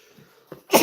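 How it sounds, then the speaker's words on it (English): A single person sneezes close to the microphone, with a short, quiet inhale followed by a sharp, loud burst at the very end. "Oh, I gotta sneeze."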